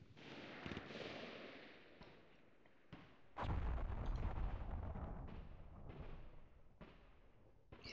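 Artillery fire in the war game John Tiller Campaign Series: a quiet, distant rumble is broken by several sharp booms, with one heavier blast followed by a long rolling decay.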